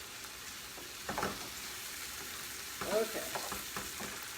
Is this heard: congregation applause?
no